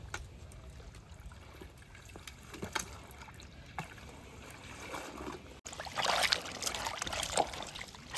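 Silk saree sloshed and rinsed by hand in a bucket of tap water, with steady splashing and trickling close by that swells into louder, vigorous swishing near the end.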